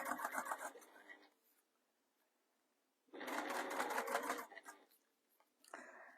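A sewing machine stitches along the raw edges of a faux leather bag, running in two or three separate bursts of rapid whirring with quiet pauses between, close and fairly faint.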